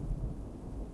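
Rain and thunder play as a short sound effect in a spoken story: a low, muffled rumble with a soft wash of rain, brief and fairly faint, with no talking.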